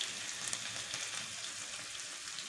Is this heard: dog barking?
no